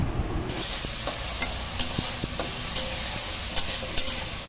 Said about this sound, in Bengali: নুন দিয়ে আলু মিনিট দেড়েক মতো ভেজে নেব।